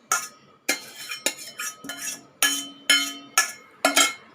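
A spoon clinks against a container while mango custard milk is mixed, about ten sharp, evenly spaced metallic taps heard close and alone, with no talking.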